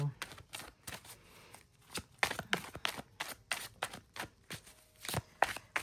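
Tarot cards shuffled by hand, a close series of crisp, rapid riffling and slapping bursts in an irregular rhythm, quiet and with no talking over it.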